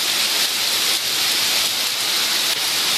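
Heavy tropical rain pours down in Florida, a loud, steady hiss of dense drops with no pauses and no voices.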